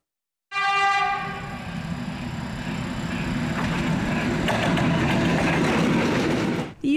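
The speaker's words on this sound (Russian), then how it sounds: "Состав мчится на скорости более 140 км в час." A fast train, moving at over 140 km/h, rushes past a railway crossing in Karachay-Cherkessia. It sounds loud and close, a steady roar with a sounding horn and rail clatter, and no talk.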